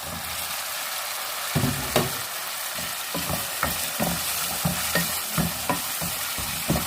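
Tomatoes roasting in a pan for a bitter gourd and meat curry, with a steady sizzle and repeated scraping stirs of a spoon against the pan, close and fairly loud, with no voices.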